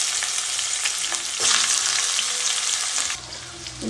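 Onion sizzling in hot oil with cumin and mustard seeds for vegetable rava upma, a loud steady crackle and hiss that swells midway and eases near the end, with no talk.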